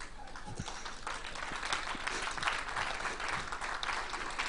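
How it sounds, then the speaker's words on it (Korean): A church audience at a lecture breaks into sustained, dense applause, a steady wash of many hands clapping that fills the room for several seconds without letup. "끝내라고 박수 치는 거죠"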